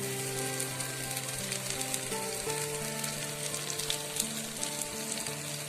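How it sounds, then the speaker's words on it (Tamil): Chopped mookirattai greens sauté in a hot oiled pan, giving a steady, close, continuous sizzle and crackle with no voices. "இந்த முக்குருட்டை கீரையை பொடி பொடியா கட் பண்ணி வச்சுக்கோம்ல இதை நல்லா இதுல வதக்கிடணுங்க"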